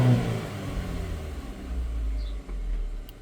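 Engine of a GMC Terrain or Chevy Equinox revving on the throttle during a stalling fault check, a close, loud rev that swells at the start, then settles into a steady rumbling run with a brief dip near the end.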